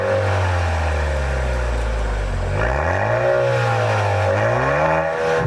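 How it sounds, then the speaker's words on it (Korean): Maserati Ghibli Hybrid, a 2-liter gasoline turbo engine with a small electric motor, accelerating hard: a loud, steady engine drone that dips and rises through gear changes, with turbocharger whir over it. "가속 페달을 밟을 때 들리는 이 터보차저 작동하는 소리, 이건 굉장히 운전자를 자극하는 느낌입니다."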